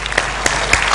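Studio audience applauding on a Turkish TV entertainment show, a steady dense patter of clapping with a few louder claps standing out, lasting the whole second.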